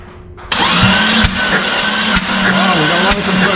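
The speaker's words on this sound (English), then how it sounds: "So we're just going to let this thing spin." A car engine cranks over steadily on the starter during a compression test with oil added to the cylinder, a loud continuous rhythmic churn with periodic louder pulses, starting abruptly after a brief quiet moment.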